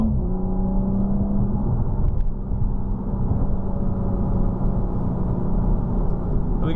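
BMW M235i (F22) engine while driving, a steady low drone and whir of the motor at cruising load with a slight shift in pitch partway through, no voices.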